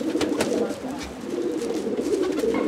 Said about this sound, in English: We got like 38 pigeons, so I don't really name them all.